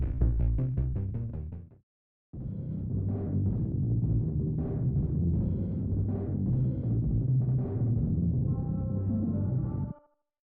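Club music as heard from inside a restroom: a short burst of clear music cuts out, then returns muffled and bass-heavy, a dull thumping beat with softened highs that plays steadily before stopping, with no voices.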